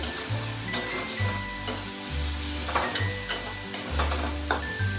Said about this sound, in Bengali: এখন টমেটো দিচ্ছি, সে দিয়ে আবার নাড়ানাড়ি করবো একটু